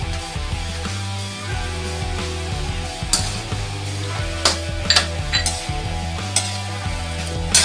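Steady sizzling in a pan while a utensil stirs and sautés, with repeated sharp scrapes and clinks against the metal growing more frequent toward the end, over a low continuous hum.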